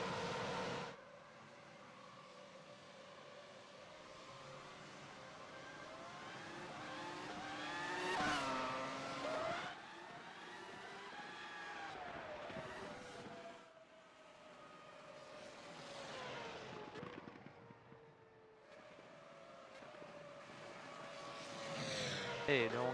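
Race cars from a racing video game run a Detroit Grand Prix street circuit under caution, engine tones rising and falling as they pass near and far, with commentary talking over them throughout.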